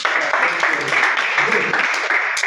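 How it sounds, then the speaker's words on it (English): Audience applause for a participant at a chess academy workshop in Ilorin, a steady, dense round of clapping lasting throughout, with speech mixed in over it. "good round of applause for him"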